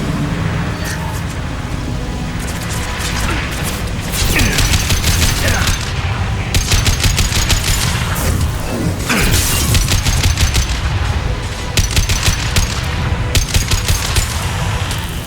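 Sustained impact-shot gunfire in Mass Effect 2: loud rapid bursts and heavy booms pile over a dense combat din, with shattering debris and short pauses between volleys.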